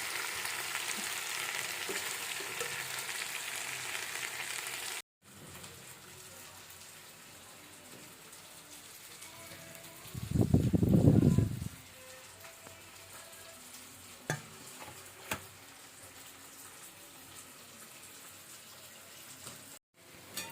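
Meat frying in a pan and being stirred. A bright, steady sizzle opens, followed by softer cooking noise, a short low rumbling burst midway and occasional clicks of the utensil.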